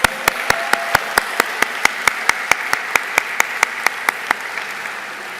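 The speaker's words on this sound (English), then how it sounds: "let's give them another round of applause" Audience applause at a baccalaureate ceremony, heard as a steady run of loud, evenly spaced sharp claps over a bed of crowd clapping that fades out toward the end.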